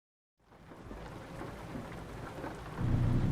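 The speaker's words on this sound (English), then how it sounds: "We've got some rain, thunder, and lightning." Steady rain pours and thunder rumbles low in a thunderstorm in American Truck Simulator, fading in from silence and swelling into a heavier rumble near the end.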